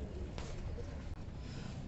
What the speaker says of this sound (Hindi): बहुत ही शानदार कबूतर है